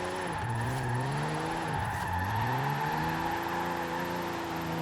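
Toyota car in Forza Horizon 4, engine revving in sustained rising and falling pitch sweeps as it is floored in third gear, loud and continuous with tire-squeal texture.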